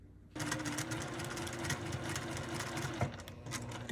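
A sewing machine stitches around the edge of a scrappy fabric mug rug, starting after a brief pause and then running as a continuous, close, even mechanical whir with a fast stitching rhythm and one small clunk.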